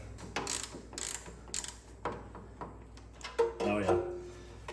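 A ratchet wrench clicks in short bursts while turning a nut on a stud during work on an old work truck, close and fairly quiet, with a few knocks and tool handling noises between strokes.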